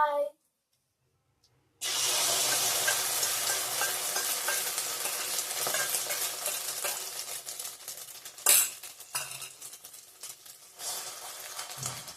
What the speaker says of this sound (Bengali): বেগুন ভাজা করে রাখছি